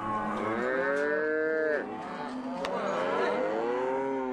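A cattle herd on a ranch drive, with loud, close moos from cows. One long drawn-out moo is followed by another that overlaps it, with faint herd noise underneath and no talking.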